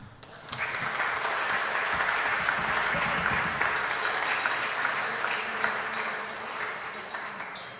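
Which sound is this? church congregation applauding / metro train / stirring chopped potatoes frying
church congregation applauding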